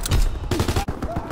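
Shots fired in the World War II shooter Call of Duty: WWII, a fast burst of several loud, sharp cracks crowding the short stretch, close and punchy with game sound around them.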